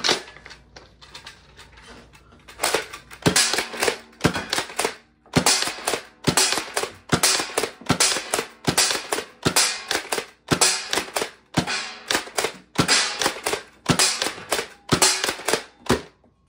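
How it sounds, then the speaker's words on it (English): A Nerf N-Series Infinite blaster firing darts in repeated loud, rapid bursts of sharp mechanical clacks and whirring, broken by short pauses where it jams, with no voice over it. "as you can see with that firing demo, it just kind of jams whenever it wants"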